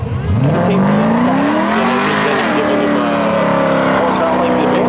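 Drag racing cars at a Memorial Day spectator drags thrill show, a Mitsubishi and a 1984 Camaro, roar loudly with engine pitch climbing steadily as they accelerate, a continuous close engine howl with an announcer talking over it.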